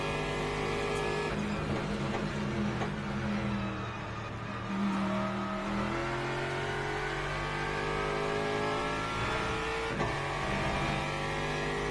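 An Aston Martin race car engine drones steadily at mid pitch, revving and accelerating through a corner with shifting tone, continuous and fairly distant with no talk.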